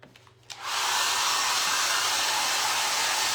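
A hair dryer switches on with a short click and then blows a loud, steady whoosh, drying paint on a primitive Christmas can craft, with no talking.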